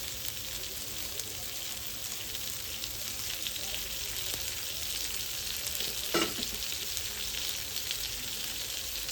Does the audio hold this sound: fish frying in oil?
yes